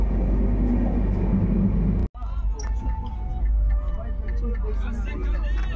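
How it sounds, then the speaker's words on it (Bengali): Aboard the Sealdah–Bikaner Duronto Express heading toward Delhi after crossing the Yamuna, a steady loud low rumble fills the carriage, briefly cut off once before resuming, while someone talks over it. "এই মুহূর্তে যমুনা নদী পেরিয়ে ট্রেন চলেছে দিল্লির পথে।"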